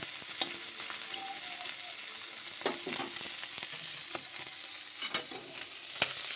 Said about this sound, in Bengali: দেখুন, আমার চিংড়ি মাছগুলো লাল লাল করে ভাজা হয়ে গেছে।